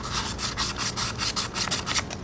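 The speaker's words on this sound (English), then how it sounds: "I'm gonna go ahead and do a little sanding on the edge." Sandpaper rubs back and forth on the edge of a Honda Ruckus scooter's drive clutch to clear the glaze before a new belt goes in, about a dozen quick, even, close strokes in a steady rhythm with no voices.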